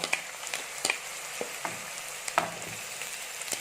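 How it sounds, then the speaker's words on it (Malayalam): Sliced onion goes into hot oil in a pan for a beef curry, giving a continuous sizzle broken by several sharp clinks and scrapes of stirring, close and with no talk. "ചട്ടി നല്ല എണ്ണ ചൂടായിട്ട് വരട്ടെ. ആദ്യം തന്നെ നമുക്ക് എടുത്തു വെച്ചിരിക്കുന്ന ഈ ഒരു സവാള ഇട്ട് കൊടുക്കാം."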